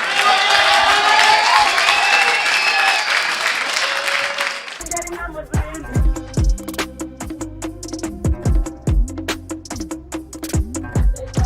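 An audience at a live comedy show breaks into loud, sustained clapping and cheering, first as a dense wash of applause, then as sharp individual claps; a voice speaks over part of it.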